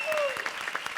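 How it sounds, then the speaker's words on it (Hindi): An audience claps in a brief, dense burst of applause at a comedy show, loud and close. "तो इनके लिए भी जोरदार तालियां।"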